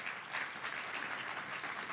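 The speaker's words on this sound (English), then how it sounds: "I think we should applaud him nonetheless" Audience applause at a leadership event hosted with a Jersey City mayor, a steady round of many hands clapping, moderately loud and even across the two seconds.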